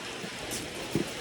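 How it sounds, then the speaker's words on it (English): Steady outdoor rain falls as a continuous hiss, with a couple of soft, louder drops or splashes near the end and no talking. "It is starting to rain."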